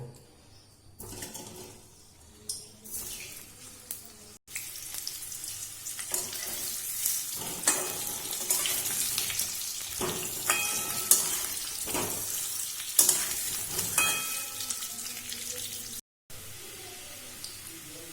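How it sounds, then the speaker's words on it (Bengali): Boiled potatoes fry in a pan while being turned, a steady close sizzle with scattered clinks and scrapes of the utensil and a short break partway through. Nobody speaks. "এই যে সেদ্ধ করে রাখা আলুগুলোকে এইগুলোকে আমি ভেজে নেব।"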